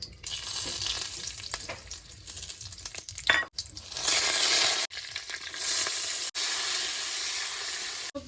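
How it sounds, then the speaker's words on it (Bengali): Whole spices crackle and hiss loudly in hot oil in a pan, a dense close sizzle that runs for several seconds with brief dropouts and stirring movements. "এবার দিয়ে দেবো এর মধ্যে গোটা মশলা"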